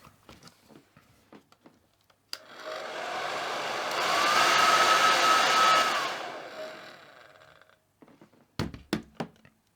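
A hair dryer blows hot air onto an eyelash curler, switching on with a thunk, holding a steady loud whoosh for several seconds that swells in the middle, then cutting off, with handling taps before and after.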